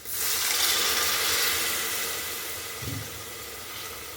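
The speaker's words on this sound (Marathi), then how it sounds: "थोडंसं पाणी टाकून घेऊ" Water pours in a steady hissing rush that slowly tapers off, close and fairly loud, with no voices.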